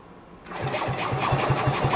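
A small Kawasaki mini bike engine being spun over by a drill, starting with a whirring hum that settles into a rapid, regular chugging pulse.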